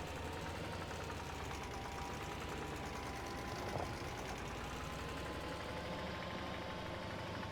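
A tractor engine in Farming Simulator 25 runs at a steady mid-pitched drone while mowing, a constant mechanical hum with a faint rattling vibration throughout and no talk.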